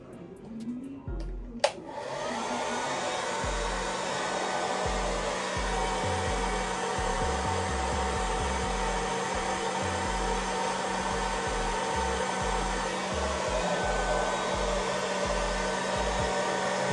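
A hair dryer blows on a lace wig, starting after a brief click and then running as a loud, steady whir with a low pulsing rumble, alone and uninterrupted for the rest of the stretch.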